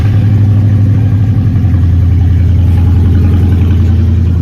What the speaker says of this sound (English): let's fire it up and see if it stays running